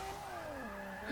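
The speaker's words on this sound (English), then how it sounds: "The noises that engine just made because of lag." Race car engine in a Formula-style racing video game at Indianapolis, a glitchy tone gliding steadily downward under lag, with a tire-squeal-like whine over a constant engine drone and no talk.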